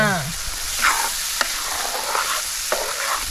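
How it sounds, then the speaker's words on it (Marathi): Spice paste frying in oil in a pan over a wood-fired stove gives a continuous crackling sizzle, with a few sharp pops and the scrape of stirring close by. "हे वाटण चांगलं तेल सुटेपर्यंत परतून घ्यायचं"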